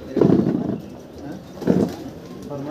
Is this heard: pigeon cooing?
yes